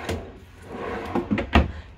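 A pull-out drawer in a 2021 Outback Ultra Lite 240URS travel trailer slides and bumps shut, a few close, short knocks and rattles in a small interior.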